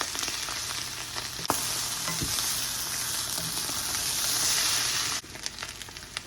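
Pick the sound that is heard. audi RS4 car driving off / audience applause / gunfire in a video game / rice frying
rice frying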